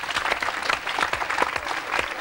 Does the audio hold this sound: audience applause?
yes